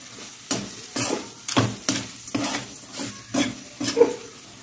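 Minced mutton keema with masala fried in a kadai, a low sizzle broken by regular scraping stirs of the spoon against the pan, about one per half second, close and clear with no talking.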